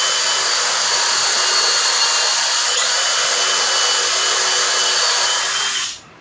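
A power drill drives screws into a pocket hole joint made with a Kreg jig in 3/4-inch wood, whining steadily and loudly for about six seconds before spinning down.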